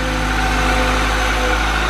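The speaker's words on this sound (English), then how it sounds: "Nice and quiet, K-series engine." A 2006 Acura RSX with a 2-liter K-series engine, automatic, 111,000 miles, idles with a smooth, even hum and low steady drone, close and constant with no voices.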